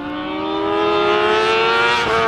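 A 2020 Honda Fireblade SP motorcycle revs hard, its exhaust butterfly valve open above 7,000 rpm, giving a loud, steady, rising howl that holds close and sustained.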